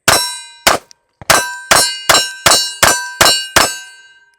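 About nine rapid shots from a Smith & Wesson Bodyguard 2.0 Comp pistol chambered in .380, each a sharp, loud crack followed by a bright metallic ring that fades before the next.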